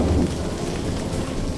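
A thunderstorm with a loud, steady wash of rain and deep rumbling thunder, continuous and close, with no voices.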